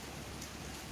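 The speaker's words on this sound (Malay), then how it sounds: "Sebab sekarang saya di tempat sekarang ni sedang hujan ya." Steady rain falling in Kuantan, a dense, even hiss of drops hitting surfaces, faint and continuous with no voices.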